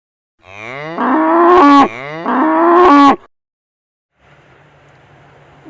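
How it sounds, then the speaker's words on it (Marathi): A bull gives two long, loud, deep moos in a row, each rising and swelling close at hand, followed by a faint low background rumble. "बैल"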